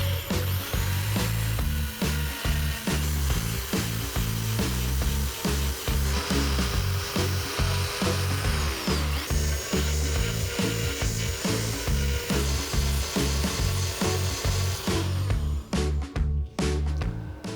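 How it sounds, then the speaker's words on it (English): A grinder works over welds on Porsche 928 bodywork with a continuous loud, harsh abrasive roar. A steady chattering rhythm runs under it throughout, and the grinding stays close and unbroken for the whole stretch. "Right, so let's get grinding."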